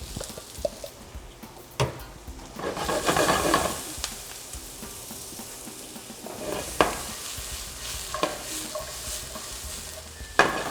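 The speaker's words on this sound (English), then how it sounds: "we're just browning the onions, softening them up a little, creating a little sweetness, getting any bits and fond up off the pan from the chicken" Onions sizzle and brown in a pan that still holds the fond left from chicken, with steady frying hiss and repeated spoon scrapes and stirs, close up and moderately loud.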